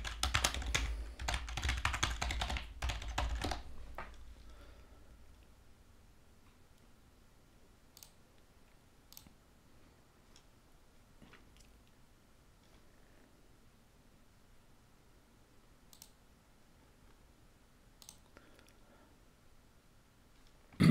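Someone entering a password on a computer keyboard, a brief burst of close keystrokes at the start, then only sparse, faint clicks over quiet room tone.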